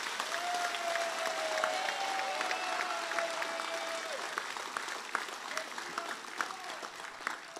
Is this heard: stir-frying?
no